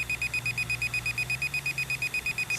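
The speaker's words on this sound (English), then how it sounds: "the transmitter beeps when you're doing that" A rapid, steady electronic beeping from an SJRC Z5 drone transmitter pulses continuously at a high pitch over a low background hum.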